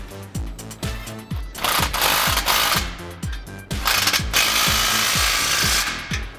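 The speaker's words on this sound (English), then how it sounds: "And now we can tighten our clamp behind the muffler." Impact tool running a 15mm socket to tighten an exhaust clamp behind the muffler of a 2014-2018 Silverado/Sierra 1500, giving rapid, close, rhythmic hammering bursts with a dense mechanical rattle.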